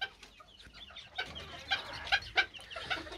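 A broody Serama hen clucks in a soft, broken series of short calls, close by, with a few sharper peaks toward the end and no talking.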